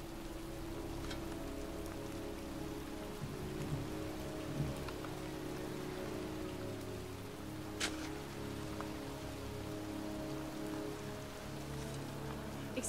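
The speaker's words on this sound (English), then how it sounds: "It's raining." Steady rain falls in the Heavy Rain video game, a soft continuous patter on surfaces with a few sharper drip ticks, fairly faint and with no voices.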